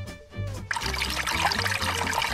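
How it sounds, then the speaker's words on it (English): Water poured into a glass to drink, a short gurgle followed by a steady splashing trickle that stays close and fairly loud, with faint background music underneath. "I'll drink some water"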